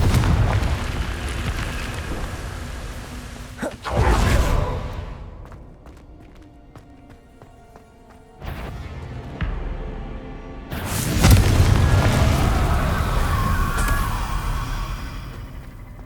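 Fire-spell blasts go off in the Hogwarts Legacy video game, loud booming bursts with rushing roar, separated by quieter stretches of ambient game sound, no talking.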